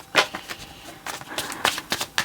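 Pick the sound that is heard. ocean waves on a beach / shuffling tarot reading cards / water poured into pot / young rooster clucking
shuffling tarot reading cards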